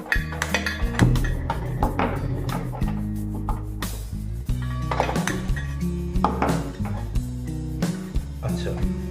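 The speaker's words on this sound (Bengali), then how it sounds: "আমরা গ্যাসের উপরে এরকম একটা তাওয়া বসিয়ে নেব, তারপর গ্যাসটিকে এখানে চালু করে নেব।" A metal tawa griddle set down on a gas stove while cooking chicken dum biryani, with repeated clanks and clinks of metal against the burner and a voice talking over the clatter throughout.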